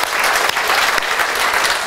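An audience claps warmly after a lecture at a library, a loud, full wash of applause that carries on steadily, with no talking over it.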